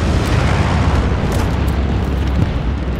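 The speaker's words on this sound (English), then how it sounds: "That was one hell of a nade." A grenade explodes in the war game Hell Let Loose with a loud, heavy blast that turns into a sustained roaring rumble and fills the whole moment.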